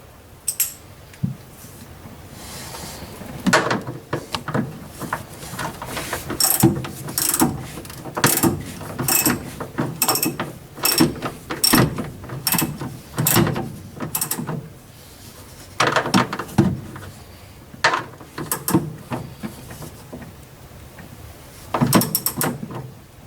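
Tightening a self-tapping screw on a ground strap while installing a fuel pump controller in a 1965 Corvair, heard as repeated close ratcheting clicks in bursts, with metallic tool handling and no talk.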